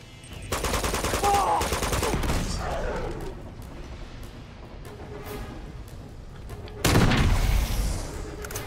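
Uncharted 2 video game gunfire: rapid automatic bursts near the start and again later, with booming impacts and some background commotion between volleys.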